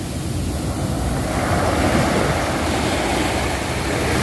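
Big ocean waves roll in and crash on the shore at Bang Saray Beach near Sattahip at sunset, a continuous loud surf wash with swelling breakers and some wind, no voices.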